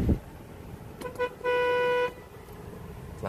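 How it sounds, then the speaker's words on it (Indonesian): Snail-type horn on a used car sounds one steady, loud honk lasting about half a second, preceded by a couple of short taps, close by and with no voices over it. "Klaksonnya sudah menggunakan keong."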